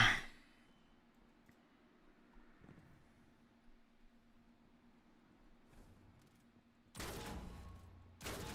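An SMG with accelerated assault fires in a video game: a long quiet stretch gives way to a loud burst of gunfire near the end, followed by a second short burst.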